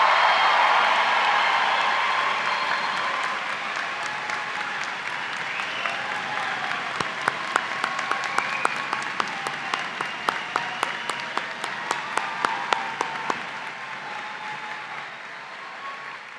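A large crowd at a high school commencement applauds the graduating class in a sustained wash of clapping that slowly fades, with a few close, crisp individual claps standing out near the end.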